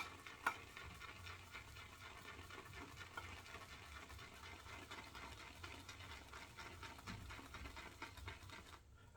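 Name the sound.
swirling Ariana and Evans Asian Pear shaving soap lather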